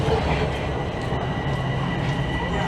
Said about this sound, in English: It is train after train after train tonight.